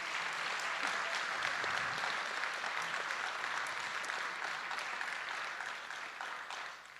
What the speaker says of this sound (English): Can I get another big round of hand of applause for my friends up here?